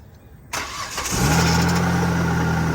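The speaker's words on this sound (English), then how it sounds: "Now I'll go see how good it does at starting the car." An old junker car, its battery boosted by a Lokithor Apart-X jump starter, cranks briefly and fires up, then settles into a loud, steady idle close by.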